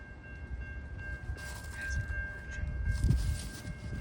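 A passenger train on daily scheduled service rumbles past steadily at moderate distance, with a steady ringing tone above the wheel and rail noise, which swells slightly toward the end. A faint voice may be present.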